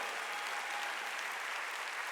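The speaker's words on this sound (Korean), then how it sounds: "박수로 하나님께 영광을." A church congregation at a Wednesday worship service applauds with dense, steady, sustained clapping that fills the room at an even level.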